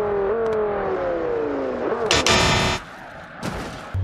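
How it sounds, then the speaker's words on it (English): Audi car engine tone slides down under braking, then a sharp, loud burst of tire screech and clatter, followed by quieter rumble and a brief second noise. "Audi brake test."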